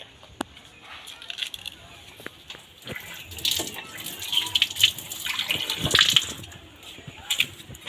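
Water runs at a public drinking-water spot with fine cups, a close splashing and trickling stream that rises and falls, while someone talks over it.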